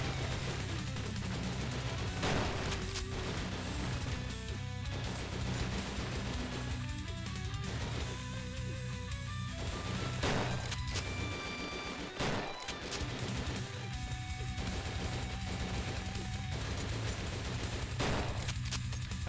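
Shotgun gunfire in a roguelike action video game, a busy, continuous barrage of blasts and impacts with sharp louder shots punctuating it and a brief crash partway through.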